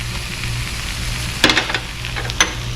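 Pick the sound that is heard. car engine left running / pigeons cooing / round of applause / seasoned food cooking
seasoned food cooking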